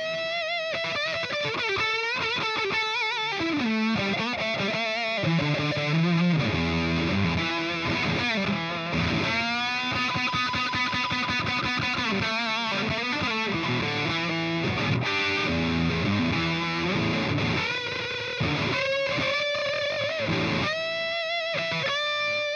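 Electric guitar played through a multi-fuzz pedal with the distortion turned up, a loud, thick, saturated tone of chords and sustained notes for over twenty seconds, no talking.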